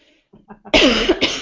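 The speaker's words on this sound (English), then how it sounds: "I have an allergy that makes me cough sometimes." After a few soft breaths and mouth sounds, a person with an allergy coughs loudly and harshly up close, two rough bursts in quick succession.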